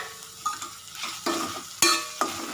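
Tomatoes sautéing with a little salt in a pan for quail gravy, with a crackling sizzle punctuated by several sharp stirring scrapes and clatters, close and loud, no voices.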